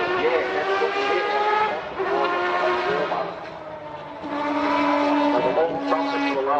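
A Lotus 97T Formula 1 car with variable-length intake trumpets roars past on a racing circuit, its turbocharged engine a loud, sustained high-pitched wail that rises and dips through gear changes.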